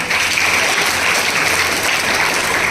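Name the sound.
audience applauding for the school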